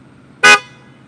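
A single short, loud horn honk from a 2020 Aston Martin DBS Superleggera Volante, bright and brassy, lasting a fraction of a second before fading.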